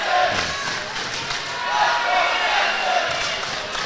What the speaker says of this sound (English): Mountain Crest cheering on their wrestler, trying to get one last victory in this duel.